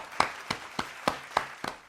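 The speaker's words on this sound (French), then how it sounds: "Bravo, je vais applaudir." One person slowly claps their hands about seven times in an even rhythm. The claps are sharp, close and fairly quiet, with brief silence between them.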